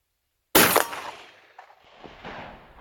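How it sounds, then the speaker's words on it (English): A rifle loaded with buckshot of two .50 caliber round balls fires at a steel target outdoors, one sharp loud report followed by a fading ring and a faint metallic hit. "I'm going to shoot the steel this time"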